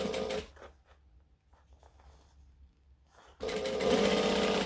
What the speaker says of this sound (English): I'm going to stitch straight across because it's quick and easy.